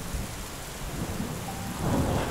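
Steady heavy rain pours with a low rumble of thunder underneath, a continuous dense wash of sound with no voices.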